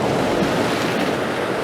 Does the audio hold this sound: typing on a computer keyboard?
no